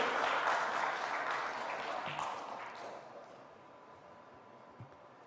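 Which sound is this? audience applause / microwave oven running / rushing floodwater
audience applause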